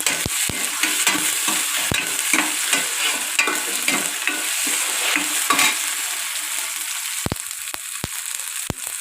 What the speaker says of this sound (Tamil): இதையே நம்ம வந்து நல்லா வதக்கணும் அப்போ தான் வந்து குழம்பு நல்லா வந்து டேஸ்ட்டாக இருக்கும்